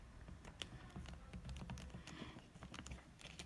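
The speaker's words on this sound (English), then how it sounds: "When I type in 2 over 3, oops, try to do that too fast." Quiet, quick keystrokes on a computer keyboard come in a rapid irregular patter throughout, with no voice over them.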